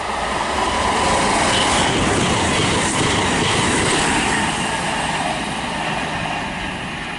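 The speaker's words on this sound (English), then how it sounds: "passing now is a Virgin train service to Chester from London Euston" A Virgin train service from London Euston to Chester passes at Nuneaton on the West Coast Main Line, a loud, close, steady rushing roar with rail rumble that fades slightly toward the end, with no voices.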